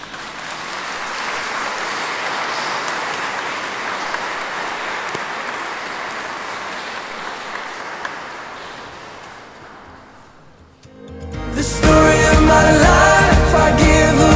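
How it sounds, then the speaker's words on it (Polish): Guests at a wedding applaud after the vows, a sustained wash of clapping that slowly tapers off before louder music cuts in near the end. "A my możemy tutaj, brawa i..."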